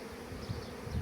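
A Carnica Troysik 1075 breeding queen bee buzzes close by, a continuous low droning hum with slight swells in loudness and no voices.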